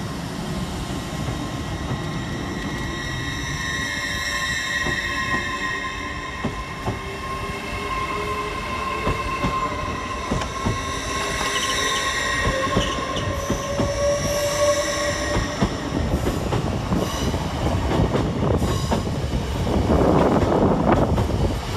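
An LNER passenger train pulls out of Doncaster railway station, a loud, sustained rumble with rising motor whine and metallic wheel squeal, growing heavier toward the end as it gathers speed.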